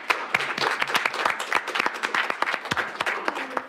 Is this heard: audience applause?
yes